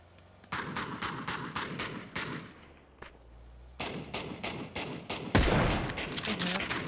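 Rapid bursts of automatic gunfire in PUBG crackle in several volleys, broken by a brief lull and a heavy boom near the end; game-like and close.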